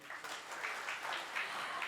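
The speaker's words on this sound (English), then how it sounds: "This calls for a huge round of applause" Audience applause at a professional chapter event as a speaker is thanked, a soft, steady wash of many hands clapping at low volume with no voices over it.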